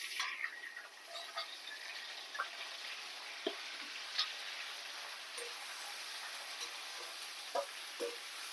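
Ginger, green chilli and onion fry in a pan for a moong dal rice-rava upma, a soft, steady crackle with occasional sharper pops and light clicks, fairly quiet and without talk.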